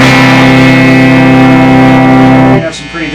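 Electric guitar through a 1968 Peavey Musician amp head, a loud sustained distorted chord ringing with a thick buzzy tone, then cut off as the strings are damped near the end.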